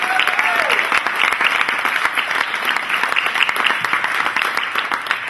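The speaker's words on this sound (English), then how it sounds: "So could we give a round of applause to all the speakers before me?" Round of applause for the speakers at a talk event, loud continuous clapping from a close audience with a brief high whistle near the start, steady throughout.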